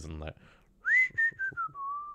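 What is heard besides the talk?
person whistling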